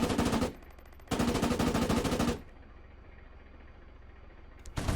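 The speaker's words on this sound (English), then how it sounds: "This tank is very fast and comes equipped with an autocannon and a machine gun." A fast Panzer II light tank in Arma 3 fires its autocannon and machine gun in two loud, dense bursts of rapid shots. A short rumbling tail follows, then the start of a third burst.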